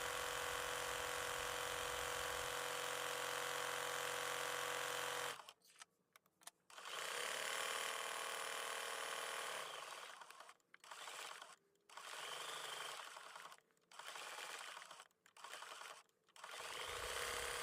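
A sewing machine satin-stitches a quilt applique, running in a steady close whir, then switching to a series of short bursts broken by brief pauses.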